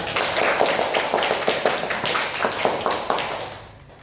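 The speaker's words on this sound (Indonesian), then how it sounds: "Beri tepuk tangan buat Rida." A small group claps together, a brisk patter of applause nearby that fades out toward the end.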